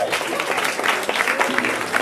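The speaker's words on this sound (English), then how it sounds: "Round of applause again for our panel." Audience applauding a discussion panel at an event, a dense, steady wash of clapping from many hands with some crowd noise mixed in.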